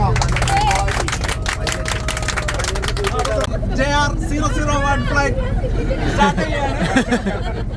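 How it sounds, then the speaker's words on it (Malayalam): A group of travellers claps along together in quick, rhythmic unison for several seconds, then the clapping gives way to loud overlapping voices and chatter. "എല്ലാവരും ഒന്ന് കൈയടിച്ച് നമുക്ക് തുടങ്ങാം"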